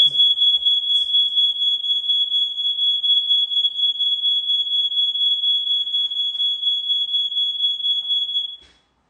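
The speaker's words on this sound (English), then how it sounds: "Not sure why my fire alarm's going off" A household smoke alarm shrills continuously at close range, one steady piercing tone held for about eight and a half seconds before it cuts off.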